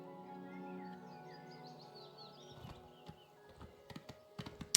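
A horse in the video game Oblivion clops along, its soft hoof steps starting partway through and quickening toward the end, over faint chirping birds and a low ambient tone.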